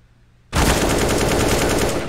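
An AK rifle sprays full-auto in a video game, a loud, continuous rattle of rapid gunfire that bursts in abruptly after near silence and holds steady to the end.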